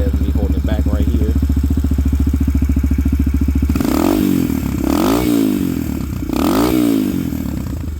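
A 2022 Yamaha TTR-125 four-stroke dirt bike with an FMF exhaust and big bore kit idles, then revs up three times in quick rising blips, loud and close, with a voice speaking briefly under the engine.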